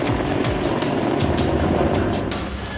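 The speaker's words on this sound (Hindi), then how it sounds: "चुनूक हेलीकॉप्टर ठीक हमारे सामने रनवे पर लैंड करता हुआ" A Chinook helicopter landing on a runway at an air force base, a loud close rotor roar with rhythmic thumping blade pulses and engine whine throughout.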